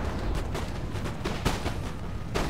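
Cannon fire rolls across a battlefield in Empire Total War, a fairly faint, steady wash of distant booms with a few sharper thuds standing out near the middle and end.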